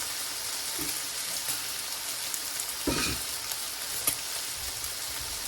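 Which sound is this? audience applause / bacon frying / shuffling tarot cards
bacon frying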